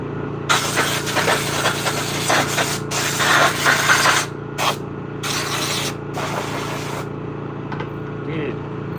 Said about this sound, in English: So, here goes the air compressor.